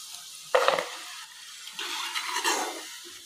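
Potato balls (aloo bites) frying in hot oil, with bursts of crackling sizzle that start suddenly, fade, then return more strongly and bubble for a few seconds; no talking.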